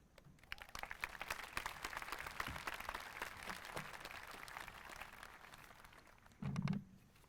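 Audience applause at a university class induction ceremony, sustained and steady across the hall for several seconds, moderately distant, with a brief low thump near the end.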